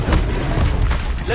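Incendio fire spell cast in the Hogwarts Legacy video game, a dense rumbling whoosh of flame with a low boom lasting just over a second, loud and close.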